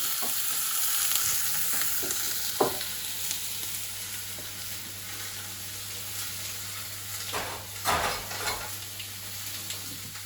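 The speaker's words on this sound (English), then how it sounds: "I'm going to put the steak straight in there. Hear it?" Fillet steak sizzling in a hot frying pan, a steady broadband hiss with a low hum underneath and occasional pops and spatters.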